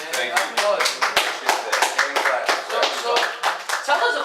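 Steady hand clapping for the creator of an animation, a continuous patter of sharp claps from a few people nearby, with voices talking over it throughout.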